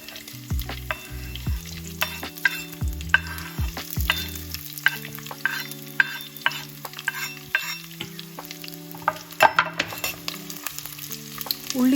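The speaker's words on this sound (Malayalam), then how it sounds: "ഉലുവ ഒന്ന് മൂത്ത് വരുമ്പോൾ അതിലേക്ക് കറിവേപ്പിലയും ചതച്ച് വെച്ചിരിക്കുന്ന ഉള്ളി, വെളുത്തുള്ളി, ഇഞ്ചി, പച്ചമുളക് അതെല്ലാം കൂടെ ഇട്ട് കൊടുക്കാം" Curry leaves with crushed onion, garlic, ginger and green chilli frying in hot coconut oil, a steady close sizzle with repeated scraping stirs, no voices.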